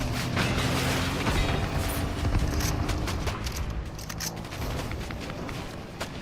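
Shots ring out in a video game, a busy, dense spread of sharp broadband cracks and bursts over a continuous low rumble, loud and steady across the whole stretch with no clear voices.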